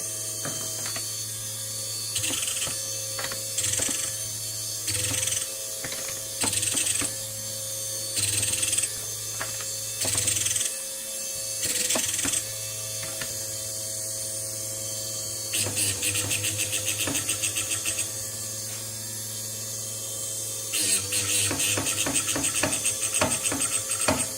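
A drill point grinder (Model 09 point splitter) runs with a steady hum while repeated sharp metallic ratcheting contacts against the stop rattle in bursts, growing busier toward the end.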